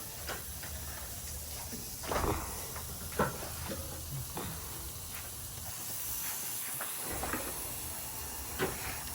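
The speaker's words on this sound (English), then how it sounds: "You hear the sizzling, guys?" Steady loud sizzling hiss with scattered pops and crackles throughout as chicken fries on a hot grill.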